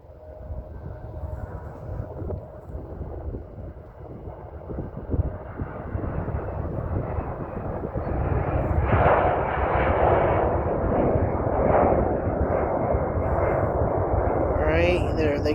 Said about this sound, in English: Alright, there they go. Taking off.